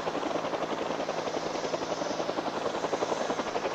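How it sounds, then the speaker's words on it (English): A helicopter in the 1-800 SUPER game thrums steadily with rapid, even rotor pulses, loud and close and continuous, with no talking. "Keep the chopper above this building!"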